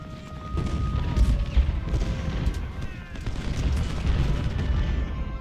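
Cannon and rifle fire from Ultimate General Civil War: a continuous rumbling din of distant artillery booms and scattered musket shots, with a few louder thuds standing out over steady battle noise.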